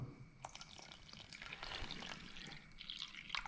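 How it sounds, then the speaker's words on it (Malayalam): Water poured into flour with a cracked egg for parotta dough, sounding as scattered wet splashes and drips, close and fairly faint, with no talking. "അപ്പോൾ ഇനി കുറച്ച് വെള്ളം ഒഴിച്ചു കൊടുക്കാം."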